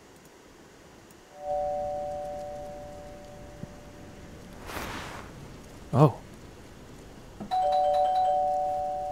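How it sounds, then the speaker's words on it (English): Two-tone doorbell chime in the horror video game Fears to Fathom: Woodbury Getaway, ringing clearly at night, sustained ringing tones twice with a pause between, plus a brief rustle and a short spoken exclamation. "Doorbell?"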